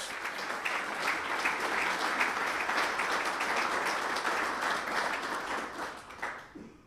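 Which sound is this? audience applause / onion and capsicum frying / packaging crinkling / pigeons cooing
audience applause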